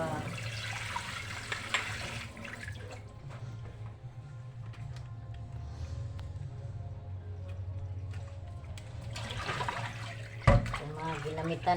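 Tap water runs and splashes while used dishes are washed at a sink, a continuous trickle that fades midway and then returns with a sharp clatter near the end, with a voice talking over it.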